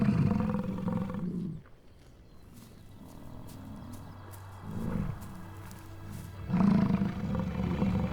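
American bison bull bellowing during the rut in Yellowstone, deep rumbling roars that rise near the start and again near the end, with a quieter rumbling stretch between.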